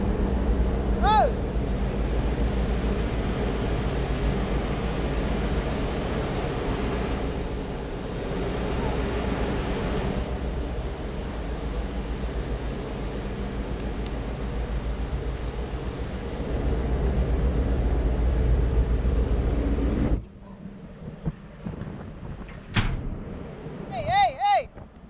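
Heavy machinery in the engine room of a tanker ship gives a loud, steady, dense drone with a low hum that runs without a break, then drops off sharply near the end, where brief voices and clatter appear.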